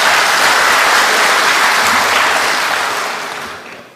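Enthusiastic crowd applause in a hall during a national address at the Indonesian police staff college, loud and continuous, then fading out over the last second.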